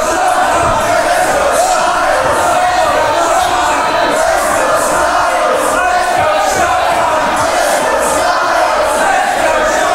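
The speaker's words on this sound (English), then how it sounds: "The capacity crowd here in the CSW arena is split about 50-50 between AJ Styles and Darrien Sanders." A capacity wrestling crowd fills the CSW arena with loud, continuous roaring and shouting, split between two wrestlers, a dense wall of cheers and chants with no break.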